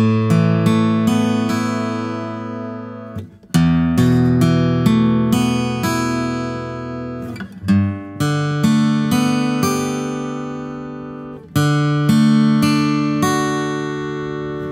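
Guitar strumming a chord progression built from extended chords, each chord ringing out sustained before the next strum, repeated changes over about fifteen seconds, close and clear with no talking.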